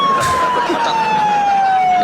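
An ambulance siren sounds loud and close as a steady, slowly falling wail, with a faint voice underneath.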